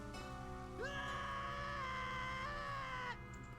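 A scream sound effect from a Majora's Mask Randomizer game, a loud sustained wavering cry lasting about two seconds with a rising start and abrupt cutoff, heard over steady game music.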